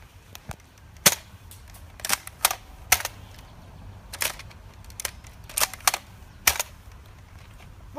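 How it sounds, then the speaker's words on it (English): Normal Nerf toy gun firing foam darts, about nine sharp clicking pops spread irregularly over several seconds, fairly close and alone with no talk. "It's a Nerf gun, but it's a normal Nerf gun."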